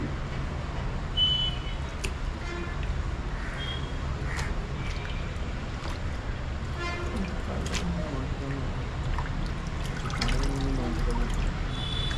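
Goat intestines washed by hand under running water, a continuous close pour and trickle with splashing and dripping, while someone talks over it.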